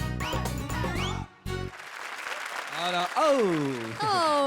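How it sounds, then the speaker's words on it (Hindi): A studio audience on the Indian TV comedy show Comedy Circus 2 applauds and cheers for a team. The clapping runs underneath lively voices and whoops. "करिए जोरदार तालियां हमारी इस टीम के लिए"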